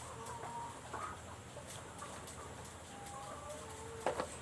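Laying hens on an egg farm cluck softly and intermittently against a low barnyard hum, with a sharper squawk near the end.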